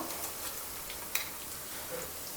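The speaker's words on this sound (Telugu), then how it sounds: "ఇప్పుడైతే ఈ ఉల్లిపాయలు వేగిపోయినాయి కదండి ఇందులో మసాలా కూడా వేసేసుకుంటున్నాను నేను" Ground masala hitting onions already fried in a pan gives a steady, even sizzle and hiss that runs unbroken, with one brief sharper crackle partway through and no talking.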